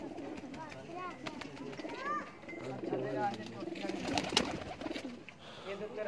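Ferozpuri pigeons coo in soft, repeated calls close by, mixed with other bird sounds, while people talk throughout.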